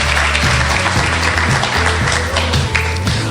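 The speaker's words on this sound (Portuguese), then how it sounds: "vamos aplaudir o Senhor" Dense, steady applause fills a graduation ceremony at a school of prophets, loud and close, with a low rhythmic thumping of music or stamping beneath it.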